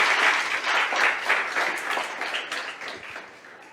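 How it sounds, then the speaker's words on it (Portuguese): A church congregation claps together in a steady wash of applause, loud at first and gradually tapering off over a few seconds, with no voices over it. "Você pode aplaudir o Senhor?"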